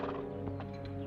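A horse in a period-drama setting gives a short whinny over close hoof clops, a brief, moderately loud burst with no talking.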